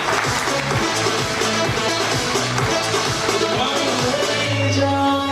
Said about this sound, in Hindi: जोरदार तालियां फैज भाई के लिए।